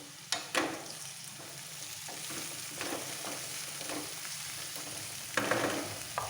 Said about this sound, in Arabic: غادي نخلي الطوماط سوريز حتى هي تزيد تقلى مع داك القريعه